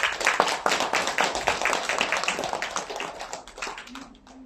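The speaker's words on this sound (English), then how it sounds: "Please welcome her with a big round of applause." A small audience at a graduation ceremony claps for a singer, a brief patter of hand claps that starts strong and tapers off within a few seconds.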